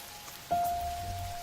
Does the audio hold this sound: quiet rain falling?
yes